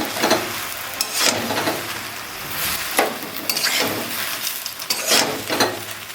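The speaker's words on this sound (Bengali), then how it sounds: "সামান্য পরিমাণে লবণ, ভালোভাবে আমি একটু নাড়ে নাড়ে ভেজে নিচ্ছি।" Jujube (kul) being stirred and fried with salt and turmeric in a pan for pickle, giving rhythmic scraping strokes about once a second over a steady sizzle, close and fairly loud, with no talking.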